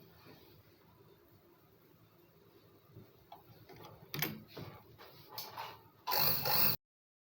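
A sewing machine stitching down a garment neckline, starting with a faint mechanical ticking and then running in short bursts that end in a loud, fast final run before it stops.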